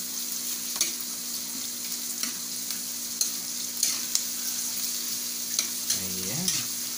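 Chicken sautéing in a hot pan, a steady broad sizzle with occasional sharp spatula scrapes and taps against the pan, close and constant throughout.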